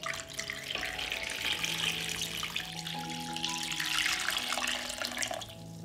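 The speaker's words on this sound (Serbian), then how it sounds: "Prelit ću butkice sa hladnom vodom." Cold tap water running into a pot holding pork legs, a steady splashing gush whose pitch shifts and rises as the pot fills, close and continuous with no talking.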